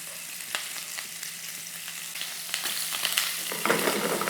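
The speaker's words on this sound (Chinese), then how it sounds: "我们就下这个排骨煎，用一个煎的方式，这火稍微可以大一点煎到它有点焦香这样子" Pork ribs pan-fry over fairly high heat in oil with ginger slices, giving a continuous close sizzle dotted with crackles that grows denser toward the end, with no talking.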